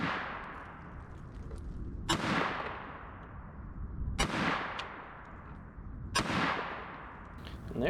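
A Lorcin L25 pistol is test fired outdoors. Three sharp, loud shots come at roughly two-second intervals, and each crack echoes off into a long decaying tail.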